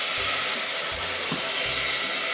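Milk pouring into a hot pan of semiya gives off a steady broadband hiss and sizzle, loud and continuous, with low rumbling thumps underneath.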